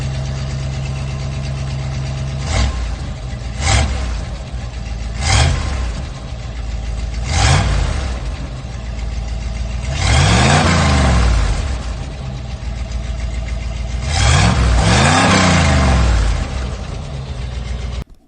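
A Chevrolet S10 pickup truck engine idles loudly and close, with a steady rumble broken by a series of short throttle blips and a few longer revs that rise and fall.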